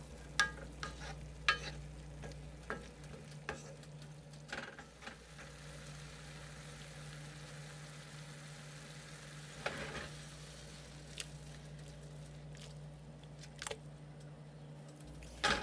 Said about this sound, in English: Stir it up for a few moments and then our stir fry is done.